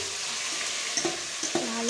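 Marinated fish fries in a pan with a steady close sizzle, while a few soft clinks from a utensil touching the pan break in near the end of the short burst.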